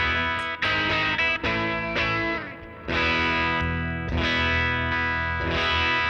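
An electric guitar through a JHS Kilt overdrive pedal, volume maxed and gain at 25% with the G1 toggle, strums loud gritty chords in several bursts, each ringing out before the next, with no voices.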